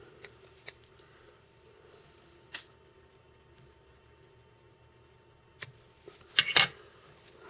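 Scissors snip fly tying material at a small vise, a few isolated crisp cuts spaced apart and then a quick cluster of louder snips, close by and quiet otherwise.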